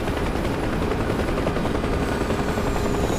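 A Chinook helicopter in the flight sim DCS thunders steadily overhead, a dense continuous rotor roar that fills the clip from start to finish without any talk.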